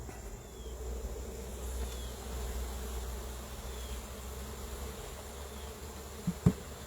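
Honeybees hum steadily around an open hive during an inspection, a continuous close-up buzz with faint passing whines from individual insects and a couple of brief knocks near the end.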